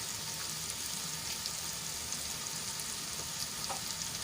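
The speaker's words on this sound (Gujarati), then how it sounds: "હવે સરસ રીતે મિક્સ કરી લીધા બાદ આપણે એમાં અડધી ચમચી હળદર અને સ્વાદ મુજબ મીઠું એડ કરી લઈશું" Spiny gourd frying in oil with turmeric and salt, being stirred in the pan: a steady, fairly quiet sizzle with soft scraping throughout, no talk.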